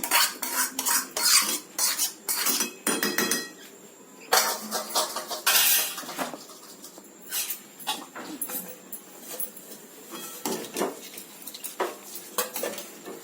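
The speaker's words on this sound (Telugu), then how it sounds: "అంతా బాగా కలపాలి" A spoon scrapes and clanks against a metal vessel while mango rice rava pulihora is mixed with its tempering, sharp irregular metallic knocks and scrapes following one another close up, with no speech.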